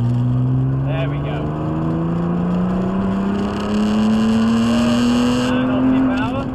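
A supercar accelerates at full power on a race track. Its engine note climbs steadily in pitch and stays loud and close, with a voice likely talking over it.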